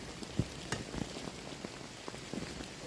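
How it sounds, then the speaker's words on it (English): Torrential rain pours onto a 3×3 tarp tent, a dense steady patter with irregular louder drops, close and continuous with no talking. "the heavens have opened up, and it's not a shower, it is torrential rain"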